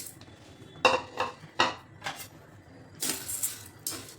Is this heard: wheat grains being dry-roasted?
yes